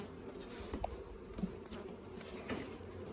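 A honey bee colony with a new queen hums faintly and steadily nearby, with a few individual bees droning closer and passing now and then.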